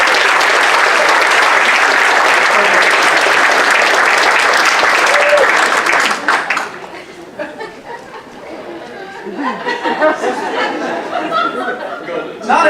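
An audience gives a loud, dense round of applause for about six seconds, then it drops to scattered chatter and light laughter across the room.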